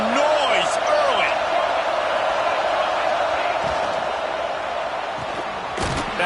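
Stadium crowd at an LSU football game, a dense, loud roar of cheering and whoops filling the space throughout, with a few sharp thuds and a voice over the top.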